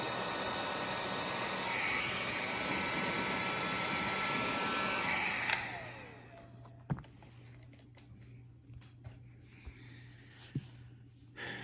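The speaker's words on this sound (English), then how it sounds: "I just use a heat gun to tidy it up a little bit so it doesn't fray anymore" A heat gun blows a steady, loud broadband rush for about five and a half seconds while tidying frayed glove fabric, then cuts off, leaving quiet handling clicks and a low hum.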